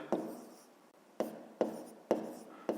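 A pen scratches out numbers in a fifth-grade maths exercise in several short, distinct strokes with brief pauses, close and clear.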